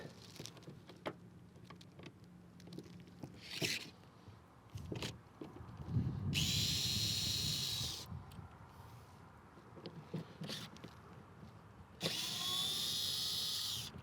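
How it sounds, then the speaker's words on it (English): A Vessel 220 USB rechargeable ball grip screwdriver backs screws out of a grab handle in a 2013 Subaru BRZ Premium interior, two sustained whirring bursts of a few seconds each, close and loud, with small clicks and handling noise between. "this is a Vessel rechargeable ball grip screwdriver, the 220 USB"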